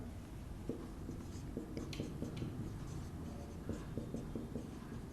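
A pen or chalk scratches across a board during a maths lesson: faint, intermittent strokes in short runs over a low, steady room hum.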